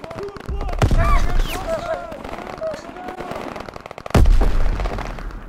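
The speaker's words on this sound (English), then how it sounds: "Gunfire this way!" Call of Duty: WW2 mission gameplay with scattered gunfire and sharp bangs amid chaotic battle noise; two heavy shots stand out near the start and end, and voices shout over the din.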